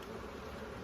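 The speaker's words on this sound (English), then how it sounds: "As you can see, I'm full of bees in here." Honey bees swarm in an open beehive, a dense, continuous buzzing hum close by with no pauses.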